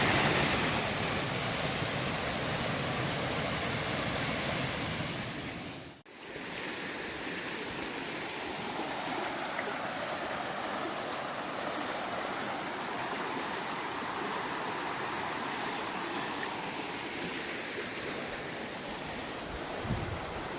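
A small but powerful river rushing through a Dartmoor gorge, a continuous broadband roar of flowing water close by, steady and alone apart from a brief dip midway.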